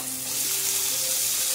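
Tomatoes going into browned onions in a hot pan for egg masala; a loud, continuous sizzle hisses up close, with a faint tonal hum beneath.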